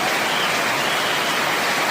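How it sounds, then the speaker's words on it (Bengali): Steady, dense rain pours down with a constant hiss, unbroken and fairly loud throughout, no voices. "ঘন ঘন বৃষ্টির আওয়াজ"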